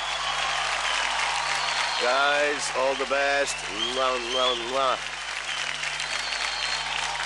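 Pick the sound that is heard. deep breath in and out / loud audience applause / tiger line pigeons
loud audience applause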